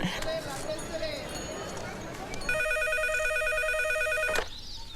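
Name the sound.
telephone ringing during a call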